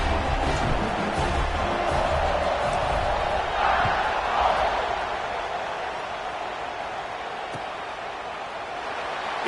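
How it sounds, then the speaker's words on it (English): A big football stadium crowd roars steadily after a touchdown drive in a rivalry game, a dense, loud wash of cheering that swells briefly midway and then eases slightly. "this crowd is feeling themselves after that last drive"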